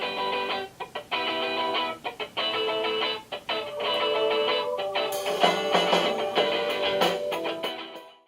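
Royalty-free music coming from an Amazon Echo Dot smart speaker, a quieter, thinner instrumental track with choppy rhythmic chords that swell fuller in the second half before cutting off at the end.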